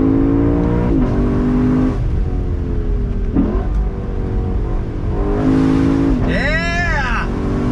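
Lexus LC500 convertible's engine revs hard and climbs through second gear on throttle, loud and close throughout, with pitch rising steadily before a brief dip and a final sharp surge.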